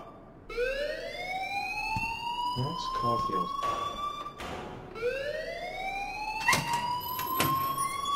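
Alarm ringing in the video game Life Is Strange: a wailing electronic siren that sweeps upward in pitch, then repeats the sweep, loud and steady while a voice speaks over it.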